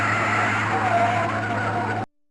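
Car skidding to a stop in the video game Down Under Dan: a loud, sustained tire screech over engine noise that cuts off abruptly into silence.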